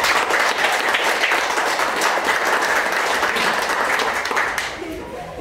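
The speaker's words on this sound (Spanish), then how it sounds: "Vamos a darles un fuerte aplauso" Loud, sustained applause from wedding guests for two newlywed couples at a church ceremony, dense clapping running steadily before thinning slightly near the end.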